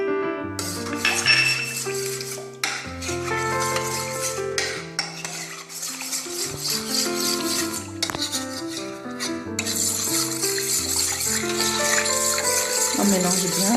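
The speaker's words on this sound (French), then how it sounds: "On va mélanger les 2 cuillères d'amidon avec le lait." Two spoons of starch being stirred into milk with a spoon in a pot or bowl, steady scraping and clinking of the utensil, under continuous music.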